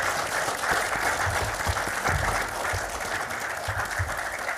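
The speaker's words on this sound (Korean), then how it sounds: "뜨거운 환영의 박수를 보내주시기 바랍니다." Audience applause at a Kwanhun Club press forum welcoming the emergency committee chairman, a steady, dense clapping from a large seated crowd that holds level throughout without voices.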